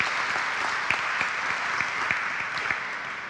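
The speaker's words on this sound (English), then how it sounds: "as we give Africa a round of applause" A conference audience at a business forum claps steadily, a dense even wash of applause that stays constant throughout with no voices standing out.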